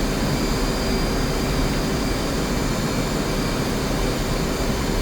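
An F/A-18C Hornet's jet engines roar steadily in the DCS flight simulator, a dense constant broadband rush with faint whining tones, loud and unchanging throughout with no talk.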